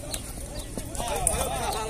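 A horse walked through a busy livestock fair in Canafístula de Frei Damião, Alagoas, its hooves giving quick irregular clip-clops on hard ground amid crowd chatter and nearby voices.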